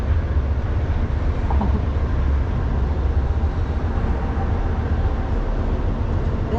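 An Amtrak train rumbles past far below in the New River Gorge beneath a high arch bridge, heard as a steady, distant low roar that holds evenly throughout, with no talking.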